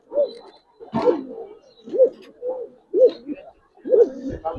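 Silver khaki Giribaz pigeons coo close by in a steady series of about six soft, throaty rolling calls spaced roughly a second apart, with no talking.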